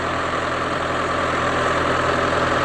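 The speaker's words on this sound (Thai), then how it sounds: "รถไถกับคันใหญ่นะครับ" A large farm tractor engine idles steadily, a constant low rumbling drone with mechanical vibration, close and loud with no talking.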